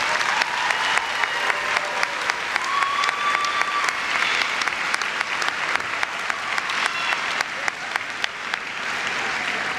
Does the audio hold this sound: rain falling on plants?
no